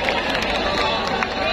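A rally crowd at a long march claps steadily in a dense, continuous wash of applause mixed with crowd babble and voices.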